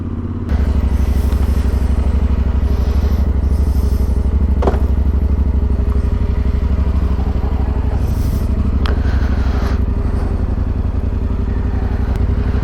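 A motorcycle rides on a highway in Ecuador, its engine droning loud and steady close up, with wind rush and a few knocks and clatters over the continuous running.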